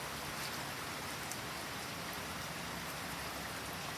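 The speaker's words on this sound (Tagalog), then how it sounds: "Pero ayan, maulan pa rin." Steady rain falling on a rural home in the province, a dense continuous hiss of drops on surfaces, fairly faint and even throughout with no voices.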